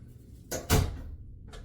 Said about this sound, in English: So let me close this door just in case the washing machine is loud.